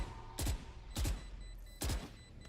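Three sharp bursts of gunfire ring out in a Valorant esports match, each a quick double-crack spaced about half a second apart, punchy and distinct over quiet background.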